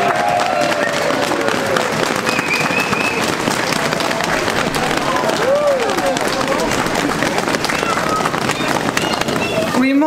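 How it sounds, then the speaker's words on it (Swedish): A theatre audience at a live Christmas show applauds and cheers, dense steady clapping filling the whole stretch at a loud level, with occasional whoops over it. "Letizia och Kent, kom fram och ta emot publikens jubel ni också."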